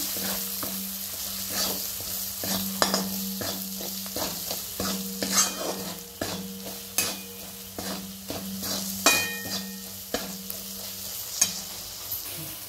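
Masala with red chilli powder is stirred and fried in a pan for black horse gram curry, with rhythmic spoon scrapes and clinks over a soft sizzle, close and wordless.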